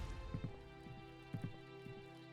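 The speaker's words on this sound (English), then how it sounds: "I really like the effect that they have for the rain hitting the other guy's umbrella" Rain patters on an umbrella in the adventure game The Excavation of Hob's Barrow: soft, uneven taps in small clusters over a sustained musical drone, quiet overall.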